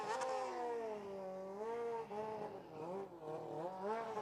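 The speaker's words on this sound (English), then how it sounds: "that's the rev limiter cutting out" A car engine revs hard with its pitch climbing and falling, then stutters briefly as it bounces off the rev limiter, loud and close throughout.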